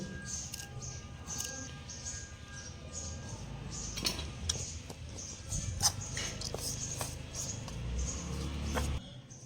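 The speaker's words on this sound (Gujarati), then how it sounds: "હવે આપણે મરસાનો મસાલો જે તૈયાર થઈ રહ્યો છે એને બરાબર મિક્સ કરી નાખવાનો છે" A spoon clinks and scrapes in a bowl while chili-stuffing masala with fresh coriander is mixed for bhajiya, with light tapping knocks and scraping that repeat irregularly, close and fairly quiet.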